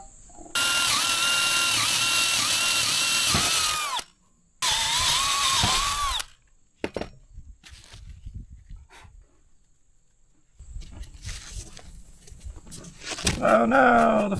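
A drill with a 1/2 inch bit countersinks a bolt hole, whining loudly and steadily for several seconds, pausing briefly and running again, followed by scattered clunks, handling noise and a rising whir near the end.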